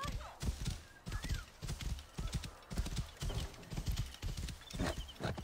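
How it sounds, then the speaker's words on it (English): Rhythmic hoofbeats of a horse galloping in Assassin's Creed Origins, close and steady in repeating bursts throughout, with a brief faint whinny and some talk mixed beneath. "Come on, horse."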